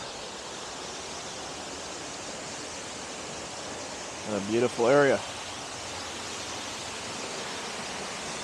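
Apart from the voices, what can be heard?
waterfall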